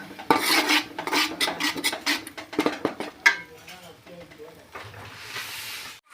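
Tomato fried with spices in a pan for tomato rice, stirred with a utensil: close, irregular scraping and clinking strokes with a light sizzle beneath, fading to a softer hiss near the end.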